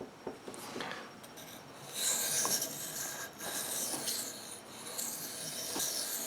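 Knife bevel sharpened on a whetstone: a soft, steady rasping scrape of steel on stone, repeated strokes, close and fairly quiet, with no talking.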